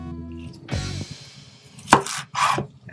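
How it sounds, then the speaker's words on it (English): A knife cuts through broccoli on a cutting board with a few separate crisp slicing strokes and sharp taps against the board, close and quiet, without talk. "Now cut this piece in 4."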